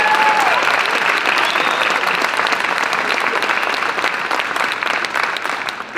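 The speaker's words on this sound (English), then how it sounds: "So clap like that." Loud, sustained applause from a large audience at a conference opening, dense clapping that holds steady for six seconds before easing slightly near the end.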